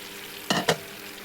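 Pointed gourd pieces dropped into boiling curd (yogurt) gravy over a high gas flame give two quick, close splashing sizzles in a row against a quiet background.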